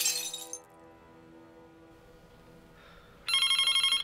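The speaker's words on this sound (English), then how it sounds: "if you drop a glass ball, it will shatter." Glass ball shatters with a bright crash of breaking glass at the start, then a ringing decay, followed by a second burst of sharp, tinkling, bell-like ringing near the end.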